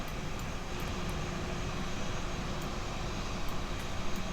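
FlightFactor A320 airliner in X-Plane 11 taxiing slowly around the apron at Skiathos, a steady broadband engine hum and hiss at low volume, continuous with no voices.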